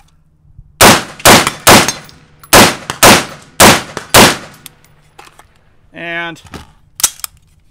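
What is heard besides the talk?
string of seven rifle shots fired on a shot timer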